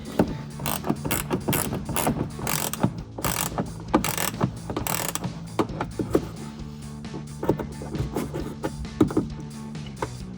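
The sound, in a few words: ratchet wrench loosening a fog light bolt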